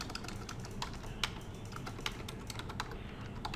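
Quick keystrokes on a computer keyboard as a document name is entered, a steady run of close, light clicks with a few sharper taps and no talking.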